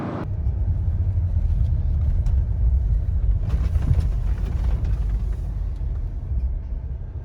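A Jeep Gladiator Rubicon on larger tires cruises on the interstate, its cabin filled with a continuous low rumble of road and engine noise, steady and unbroken, with no talking.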